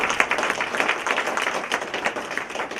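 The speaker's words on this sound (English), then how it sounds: "let us applaud their efforts" An audience at a League of Women Voters legislative meeting applauds the legislators, a dense burst of many hands clapping at moderate distance for a few seconds, fading slightly at the end.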